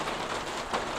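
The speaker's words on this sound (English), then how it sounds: "Go the rain." Rain falls steadily, a dense even hiss that stays constant for about a second, with no voices.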